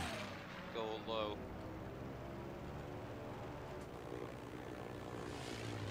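Propeller planes droning overhead in Battlefield V, a steady engine hum with a pass swelling early on, under ongoing game noise and distant booms, with people talking.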